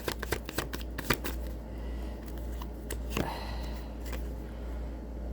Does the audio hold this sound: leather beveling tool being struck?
no